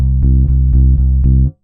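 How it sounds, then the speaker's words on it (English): Virtual bass from EZBass with an Americana electric bass, every note plucked by the middle finger alone: a steady run of six low, round repeated notes with soft attacks, close and clear, with no talking. "Versus if we change those all to just the middle finger hitting."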